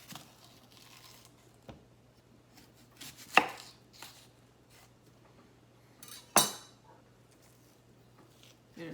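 An onion chopped with a knife during home meal prep, a few sharp separate knife strikes on a board among faint rustling in a quiet room.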